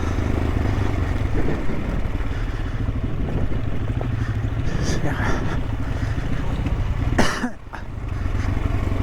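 A Suzuki DR-Z400 dual-sport motorcycle engine drones steadily while riding off-road, wind buffeting the microphone hard, with a short dip in the noise near the end.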